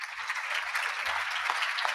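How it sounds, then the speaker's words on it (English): Guests at the On Point for College 25th anniversary celebration clap for supporters and sponsors, a lively, continuous patter of hands with a few faint voices underneath. "can I get a round of applause for all the supporters and sponsors here tonight?"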